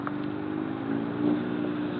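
A motorcycle on a solo ride takes a steep ghat hairpin turn. Its engine hums steadily and low under constant wind buffeting, with a slight surge near the end of the short stretch.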